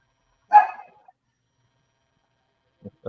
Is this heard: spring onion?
no